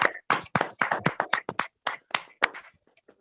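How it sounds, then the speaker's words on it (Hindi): Sparse, separate hand claps from participants in an online meeting, heard one by one with short gaps between them, sharp and close, and tapering off into quiet. "एक बार जोरदार तालियां बजाएं"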